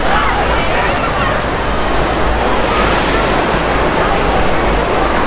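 The waterfall at Banganga on the Vaishno Devi route gives a loud, steady, close rushing roar of falling water that fills the whole stretch without a break.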